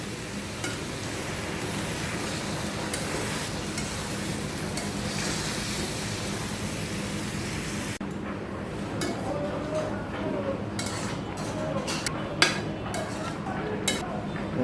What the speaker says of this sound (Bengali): এখন আমি সবজিটা কষিয়ে নেব